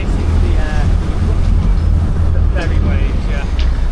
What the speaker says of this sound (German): Jetzt kommen die Wellen von der Fähre.